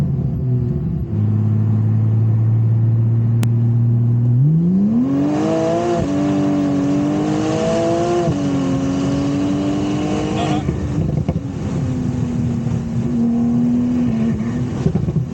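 A Porsche 992 Turbo S Convertible engine idles low, then rises into a strong roar as it accelerates through gears, heard from inside, loud and continuous.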